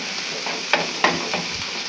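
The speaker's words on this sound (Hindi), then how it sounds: "साथ ही डाल देंगे इसके चॉप की हुई मिर्चें, इनको हमने ब्राउन नहीं करना, बस थोड़ा सा सौते करना है।" Chopped chillies sauté in a pan for samosa filling, a soft steady sizzle broken by two or three quick scraping stirs of a spoon, close and moderately loud.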